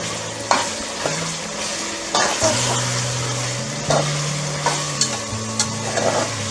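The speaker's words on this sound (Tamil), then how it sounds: "மஷ்ரூம் போட்டதுக்கப்புறமா ஜஸ்ட் 1/2 மினிட் சாட் பண்ணுங்கள்" Mushrooms and green peas sauté in a pan with a constant close sizzle, broken by repeated scraping and clinking strokes of a stirring spoon at an irregular rhythm.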